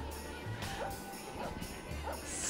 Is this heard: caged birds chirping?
no